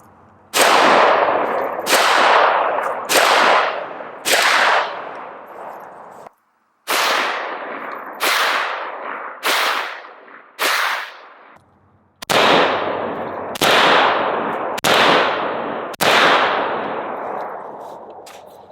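An AK-47 rifle with a bare muzzle fires about thirteen loud, sharp single shots at a range, each crack trailing off in echo, spaced roughly a second apart with short pauses between groups.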